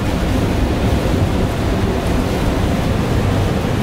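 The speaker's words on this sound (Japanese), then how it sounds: "なんか風と雨すごいんだけど、 この辺特に風がすごい。" Heavy rain and strong gusting wind buffet a camper van on an expressway in stormy weather, a loud, dense, continuous roar with no pauses throughout.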